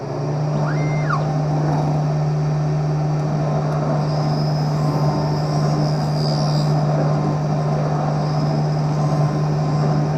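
An optical lens edger grinds a prescription lens for a Harley Davidson frame on its bevel wheel, producing a loud, constant machine hum with a steady low drone and a faint high whine, without voices.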